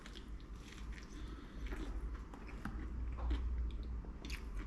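Close, quiet chewing and crunching from bites of a chip butty sandwich on crunchy bread with chips, salt and vinegar and ketchup, a steady soft mush of mastication with small crackles throughout.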